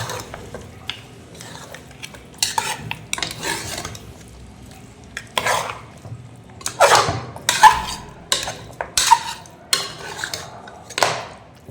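A tomato being stirred in a cooking pan for a mutton and potato gravy, irregular scraping and clattering strokes of a spoon against metal with a faint sizzle in between.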